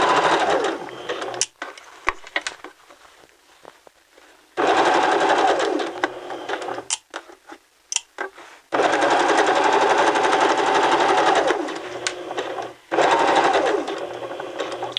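A sewing machine runs along a garment's side seam in loud, rapid bursts, pausing into silence between runs and starting again several times.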